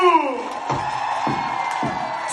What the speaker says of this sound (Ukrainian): Оплески для ССУ!